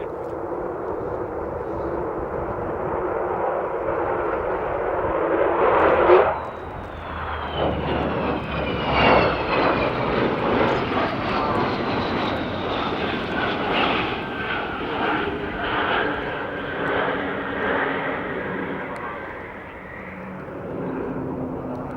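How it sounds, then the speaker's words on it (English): Four Rolls-Royce Olympus jet engines roar as a large aircraft flies past in an air display, building to a loud, rumbling peak before the thunder slowly fades and lingers in the distance. "that was the sound of 4 Rolls-Royce Olympus"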